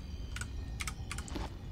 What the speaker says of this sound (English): playing using my keyboard